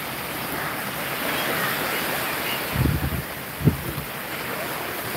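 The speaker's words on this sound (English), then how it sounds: "oh, look at the waves" Ocean surf breaks on a beach in the morning with a steady wash of water and wind buffeting the microphone, plus a couple of brief low thumps partway through.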